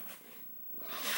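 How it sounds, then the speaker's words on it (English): A cat purrs close by in a soft, continuous rumble with breathy noise, heard alone for just over a second. "If you can't hear the cat, she's purring."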